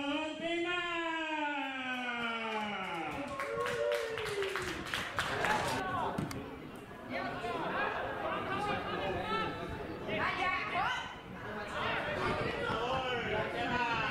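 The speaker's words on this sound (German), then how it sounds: "Applaus für unseren Torschützen" Scattered clapping and crowd chatter at an amateur football match between ESK Graz and SV Hausmannstätten II, the applause for the goal scorer spread thin beneath continuous talk and cheering voices.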